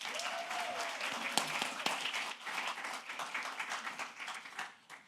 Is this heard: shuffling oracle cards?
no